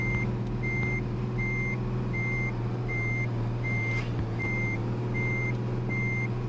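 Reversing beeps of a bus in a bus driving video game, a steady run of evenly spaced tones over a continuous low engine drone, with no talk.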